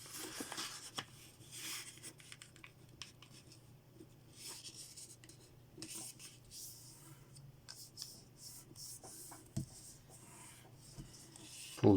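Paper is folded diagonally for an origami bird, with soft close rustles, creases and faint scraping strokes in a quiet room and no talking.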